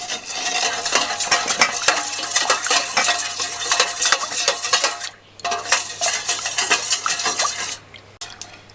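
A spoon stirs watermelon juice with a few drops of lemon juice and black salt, giving continuous swirling with quick clinks against the container and brief pauses, close and fairly loud.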